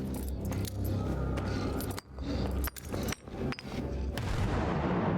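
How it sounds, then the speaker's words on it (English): Two hand grenades exploding together in the shooter game Stalker 2, a loud dense blast with rumbling debris that fills the clip, broken by a few short sharp drops and cracks. "Blew up 2 hand grenades at once."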